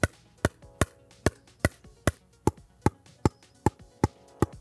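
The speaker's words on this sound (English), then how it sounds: "I immediately noticed that this is a quieter paddle" Diadem Hush pickleball paddle striking a ball in a steady rally, about a dozen short, muted pops spaced evenly less than half a second apart, fairly quiet and clean with no talk.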